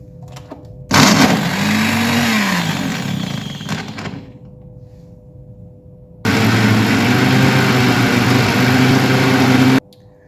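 Electric blender mincing a curry spice mix with pink salt, running in two loud bursts of about three seconds each with a quiet pause between, whirring steadily with a slight pitch sweep as the motor spins up.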